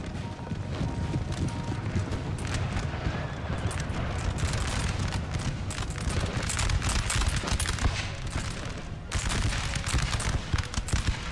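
Dense musket volleys crackle in a Napoleon: Total War battle as Dutch and French lines fight at point blank, sustained rattling gunfire with a brief lull before it resumes, loud and continuous.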